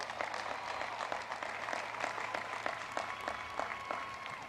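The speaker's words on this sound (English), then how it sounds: "Wow, let's give Mr. Hunter another thing of applause" Sustained applause from an audience at a spring 2021 college commencement ceremony, steady dense clapping throughout at moderate level, heard alone without talk.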